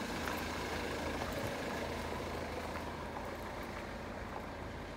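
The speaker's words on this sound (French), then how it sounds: "il y a beaucoup de voitures qui se baladent dans les allées" Cars rolling through the alleys of the closed Foire Saint Denis fairground in Saint-Quentin: a dense, steady engine rumble and road noise that holds level throughout, fairly near with no clear pauses.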